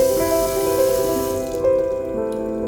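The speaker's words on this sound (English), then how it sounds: "this is how much water is saved if you leave the water running when you brush your teeth" Water from a fountain faucet running into a sink, a steady close splashing rush with bright tonal ringing, loud and continuous, thinning in its upper hiss partway through.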